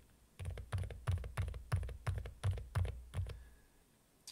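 Typing on a silent mechanical keyboard gives about ten muffled, evenly spaced keystrokes, each a soft low thud with a light click, heard close and alone.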